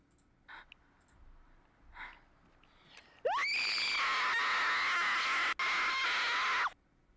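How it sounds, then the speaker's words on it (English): A blood-curdling scream from a Slender web series, a loud sustained shriek lasting over three seconds that cuts off abruptly, preceded by faint quiet noises. "Probably gonna be another scream."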